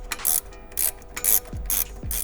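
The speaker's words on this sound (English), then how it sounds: "We're using a pass-through ratchet here, and this is a 6mm" A pass-through ratchet turning a 6mm Allen key during a lowering spring install on an FRS/BRZ/86 makes quick, loud bursts of rapid metallic clicking in close, repeated strokes.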